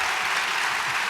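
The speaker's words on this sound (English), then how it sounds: "That's another round of applause for this great book." An audience at a Baylor University event breaks into steady, dense applause, a continuous wash of clapping from a sizable crowd.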